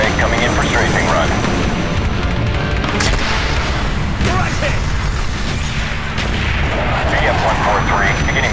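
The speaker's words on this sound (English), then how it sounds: "Roger, X-ray. Coming in for strafing run." Aircraft strafing run in Call of Duty Black Ops, dense loud booming gunfire and explosions rolling over a continuous roar of engine and battle noise, with radio-style voices talking over it.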